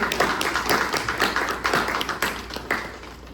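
An audience at a Tamil poetry recital breaks into close, lively clapping, steady and dense at first, then thinning and fading toward the end.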